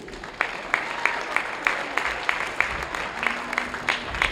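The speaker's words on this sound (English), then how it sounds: "Let's have a big round of applause for the powerlifting seniors" Audience applause for the powerlifting seniors during senior recognition at a high school basketball game, a steady wash of clapping through the whole stretch with sharper individual claps standing out at regular intervals.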